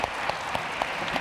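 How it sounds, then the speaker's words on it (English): A church congregation claps at Sunday worship in a brief burst of steady applause, fairly loud and even, with a few sharper claps standing out, no talk over it. "Let's give a round of applause"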